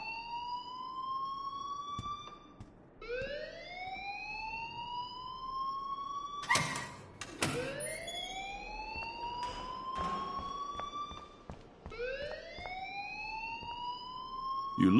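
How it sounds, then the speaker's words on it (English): Alarm in the video game Life is Strange, a loud rising siren wail that sweeps up and repeats in long cycles, with sharp bangs and clatter breaking in between, no talking. "please turn off that alarm since that's your job"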